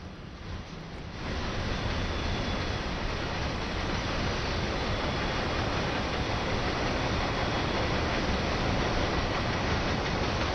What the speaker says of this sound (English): Some freight train coming.